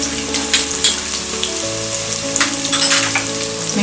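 Onion and garlic sizzle steadily in a hot pan, a continuous bright frying hiss with occasional stirring scrapes and pops, close and fairly loud throughout, with no voices.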